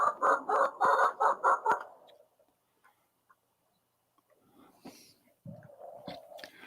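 Rhode Island Red chickens are heard in a coop on a morning in Central Oregon. Rhythmic clucks come in a quick series, followed by a quiet stretch with faint scratching and a few scattered clucks and calls.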